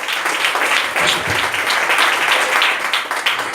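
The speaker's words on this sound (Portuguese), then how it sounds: "Dê uma salva de palmas para o Senhor Jesus" A church congregation claps in a dense, loud, sustained burst of applause that holds steady for several seconds without talk.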